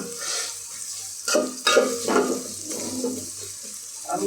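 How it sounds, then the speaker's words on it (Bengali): Onions frying in a pan for beresta, a steady close sizzle under repeated scraping stirs of a spatula against the pan, with a few louder clanks and shuffles through the middle. "আমি পেঁয়াজের বেরেস্তাটা একটু বানাবো, একটু সময় নিয়ে।"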